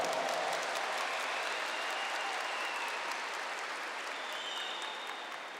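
Steady applause from a large church audience during a Catholic sermon, sustained and fairly even throughout, slowly tapering slightly toward the end.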